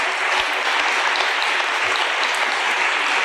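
Dense, sustained applause from an audience at a ceremony fills the space, a loud steady wash of many clapping hands with no pauses.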